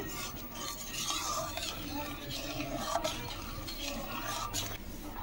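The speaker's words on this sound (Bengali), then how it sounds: "এবারে খুব ভালোভাবে মিশিয়ে নেব।" A spoon stirs thickened milk mixture for palm fruit ice cream in a pot, giving soft scraping and swirling sounds that repeat at low volume, with faint kitchen background.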